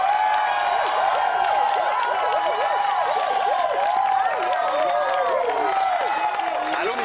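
Studio audience at a Quebec game show claps and cheers to welcome the contestants, a dense and steady wash of applause with crowd voices shouting over it throughout.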